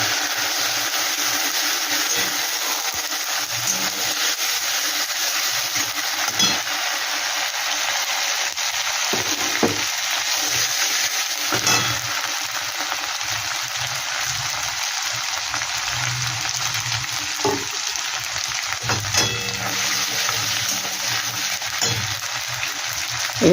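Ginger and green chili paste frying in a pan after a little water is added, during cooking of a soybean chhana kofta curry. A steady, close, even hiss runs throughout, broken by occasional soft clinks and knocks.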